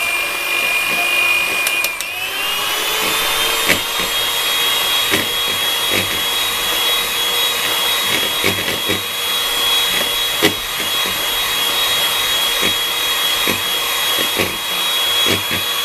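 Egg whites being beaten for a Black Forest cake, with a steady loud motor whine that shifts pitch as the speed is raised, then runs on evenly with faint tapping.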